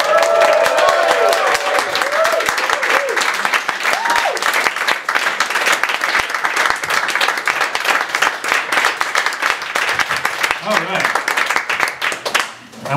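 An audience claps steadily to welcome a speaker at a startup event, dense sustained applause with a voice briefly audible early on, fading out at the very end.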